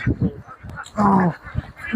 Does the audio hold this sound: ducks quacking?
yes